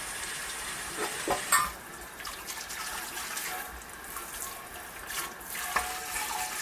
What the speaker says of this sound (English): Now I'm just washing up my pot